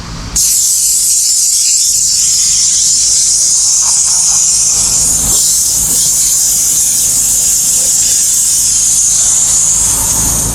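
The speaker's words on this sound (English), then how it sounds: "this door panel is kind of going to be the real speed test of the steam here" Steam cleaner hissing continuously and loudly as it steams a car's interior door panel during a full interior detail, a strong unbroken spray with faint handling noises underneath.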